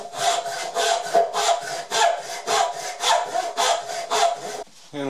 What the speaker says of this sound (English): we'll just use a bench hook and a crosscut saw to cut out the rest of that waste